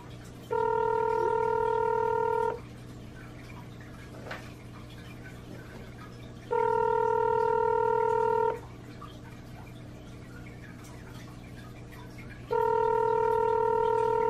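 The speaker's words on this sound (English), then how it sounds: "It's ringing." A telephone ringback tone on an outgoing call to an old call-in show line sounds in three steady two-second tones, separated by about four seconds of quiet line hiss, with no talking.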